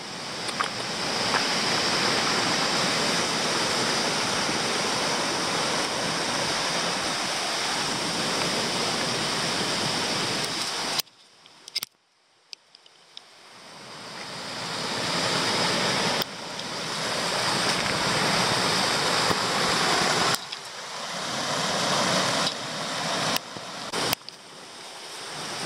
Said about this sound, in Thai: น้ำไหลเป็นทางเลยอ่ะ